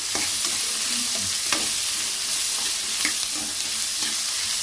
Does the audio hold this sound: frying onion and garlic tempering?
yes